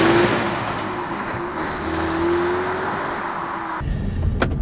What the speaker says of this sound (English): setting off in the 2015 Ford Mustang EcoBoost